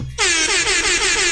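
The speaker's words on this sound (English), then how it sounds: "Air horn." A loud, blaring air horn sound effect kicks in abruptly and holds steady for over a second, alone and up close.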